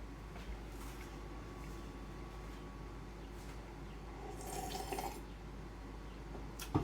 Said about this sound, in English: put that hand inside some flowing water